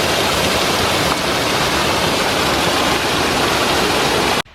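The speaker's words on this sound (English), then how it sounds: "All these waterfalls and creek crossings is gonna take me a while." Mountain waterfalls and creek water rush loudly and steadily on a winter hike in the MacIntyre Range, a dense unbroken roar that fills the whole clip before cutting off abruptly at the end.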